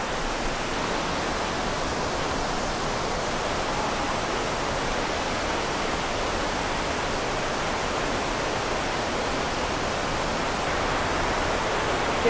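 Underground waterfall inside the Quashie River sink cave gives a steady, dense rushing roar that stays even and unbroken throughout, with no voices over it.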